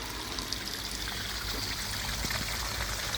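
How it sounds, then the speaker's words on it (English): Water from a koi pond filter runs out through the overflow in a steady, continuous trickling stream that stays even and fairly close throughout, with no voices. "All that water go out through the overflow,"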